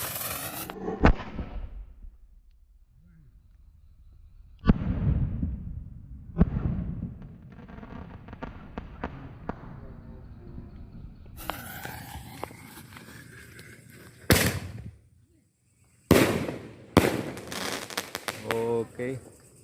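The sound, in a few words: large Roman candle fireworks firing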